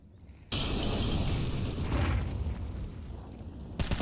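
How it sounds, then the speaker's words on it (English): A flashbang grenade detonates in Counter-Strike on the Ancient map, an abrupt loud burst followed by a sustained, dense roaring ring that slowly fades before a sharp clatter at the end, with no voices. "How long can you face into the flashbang?"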